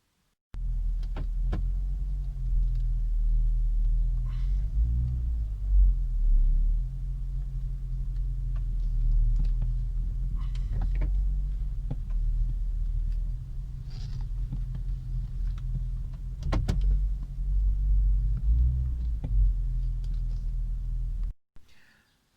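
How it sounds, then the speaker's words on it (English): A Mercedes C55 with its M113 engine idles as the steering is turned repeatedly from full lock to full lock, a steady low engine rumble holding throughout with faint creaks and whirs on top, ending abruptly. "we're going to go full lock right, full lock left, full lock right, full lock left a couple of times"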